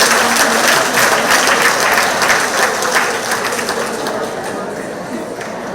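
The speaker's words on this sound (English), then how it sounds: "So let's give them another round of applause." Loud, dense applause from a crowd at a community centre monthly meeting welcoming new members, sustained clapping that slowly tapers off.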